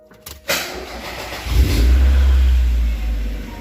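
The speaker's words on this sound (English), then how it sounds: "Make sure you start your car." A Mazda Miata (1990-1997) after a short shifter install cranks with a brief starter whir, then catches and settles into a loud, steady engine rumble close by, with no one speaking.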